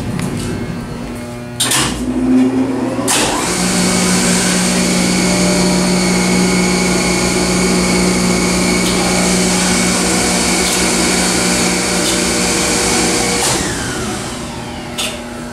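An OTIS fan runs steadily in a hydraulic elevator machine room, a loud continuous whirring drone with a humming tone that starts after a few seconds and holds throughout, no talking.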